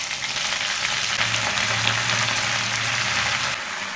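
Washed gongura (sorrel) leaves frying in oil in a pan, a loud, steady hiss and crackle of sizzling that carries throughout, easing slightly at the very end.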